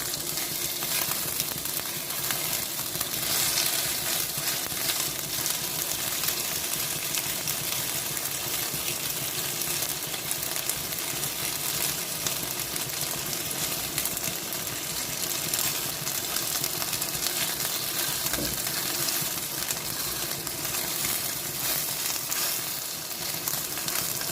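Steady, dense sizzle of mushrooms frying in hot oil in a pan, loud and continuous throughout with no voices.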